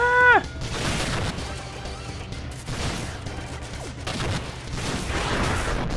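Gunfire in the video game Iconoclasts comes as a burst of sharp shots, with a few scattered game effects afterward over a low, steady background.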